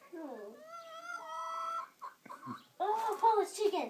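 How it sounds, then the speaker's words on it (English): A black-and-white Polish chicken gives a drawn-out, wavering call, then a few short clucks close by, while voices talk over the last part. "Oh, Polish chicken!"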